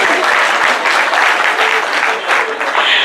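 Loud, close applause from a crowd at an intercultural conference, a dense sustained wash of many hands clapping that swells and eases slightly over a few seconds.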